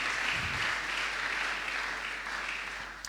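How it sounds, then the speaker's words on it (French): An audience at a Christian entrepreneurs' fair claps for a pastor after his talk, steady dense applause filling the room and fading slightly toward the end. "Sous vos applaudissements, on peut encourager le pasteur."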